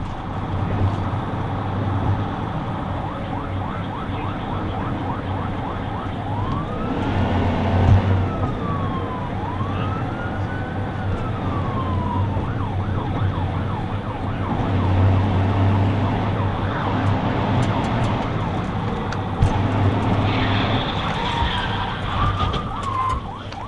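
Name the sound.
police car siren during pursuit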